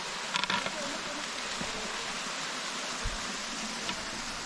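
Broad steady rush of a river and waterfalls at Cerrito Blanco in the Córdoba hills, a constant close hiss of flowing water with no break, a few faint knocks and brief sounds mixed in.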